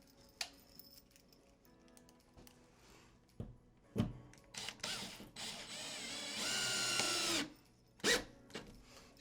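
Drill driving screws through a waterproofing membrane, about a foot apart, heard as a whirring burst of a second or so between scattered clicks and handling knocks, close but fairly quiet, no talk.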